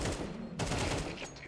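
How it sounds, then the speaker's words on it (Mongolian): Gunfire in a Counter-Strike 2 match on the Mirage map comes as a dense, continuous fusillade of rapid shots, loud and close, with a brief dip before the bursts resume. "Эндээс өөдөөс нь буудаад байгаа."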